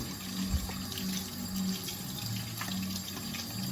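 Tap water runs steadily into a sink while hands are washed, a continuous close splashing stream with small shifts as the hands move under it.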